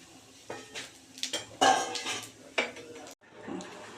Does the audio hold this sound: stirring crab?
yes